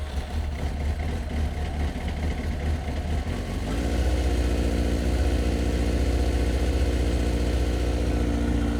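Suzuki GSX-R1000 K1 from 2002 with a swapped exhaust fires up: starter churn for a few seconds, then the engine catches and settles into a loud, steady, burbling idle up close.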